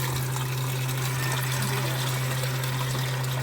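A tap runs steadily while a small child washes dishes, with a strong constant low hum beneath the continuous splashing water and no talking.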